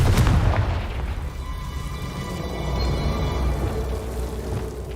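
Confringo blasting spell detonating in the Hogwarts Legacy video game: a single loud, close boom at the start that decays into a long, low rumbling tail.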